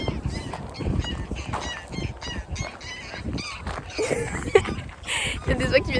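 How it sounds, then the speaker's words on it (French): Geese that have just escaped honk loudly and close by on a roadside in Scotland, their calls repeating irregularly while a person talks over them. "Il y a des oies qui viennent de s'échapper juste à côté de moi"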